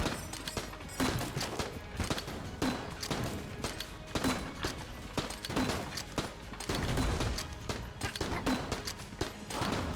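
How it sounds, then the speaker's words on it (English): Rapid, rattling gunfire and explosive bursts in Enter the Gungeon as cannon or grenade shots pound a turret, a steady stream of sharp cracks layered with game music. "Why spend like 8 cannon or 8 grenade shots on it?"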